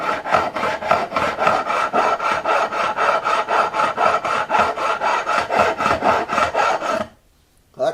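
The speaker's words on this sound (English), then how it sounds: "I'm watching to see how much I'm filing on the old frets" A hand file rasps back and forth across the old frets of a Martin HD-28 guitar in steady, evenly spaced strokes, loud and close for about seven seconds before stopping abruptly.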